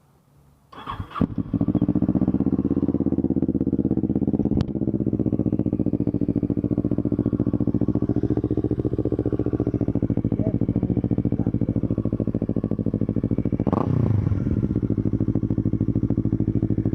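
A motorcycle with a repaired, more solid exhaust pipe starts up and settles into a steady, loud idle with a constant throbbing note, briefly blipped near the end.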